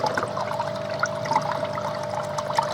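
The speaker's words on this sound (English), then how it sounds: "I don't like the water coming over the top of the disc" Water pours steadily over the top of the filter disc in a koi pond pod, a continuous splashing trickle close by with small bubbling accents and no speech.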